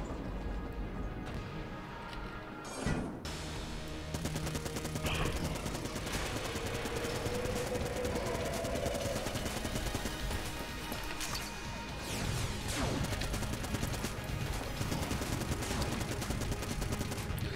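Continuous gunfire from the video game Enter the Gungeon, dense rattling shots and impacts running throughout with crashes and mechanical clicks, steady and moderately loud.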